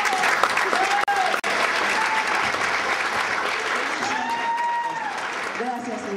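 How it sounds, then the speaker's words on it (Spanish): A school audience applauds students in a hall, loud continuous clapping with occasional whoops, while a voice speaks over it and brief dropouts break the sound early on. "un aplauso para ellos"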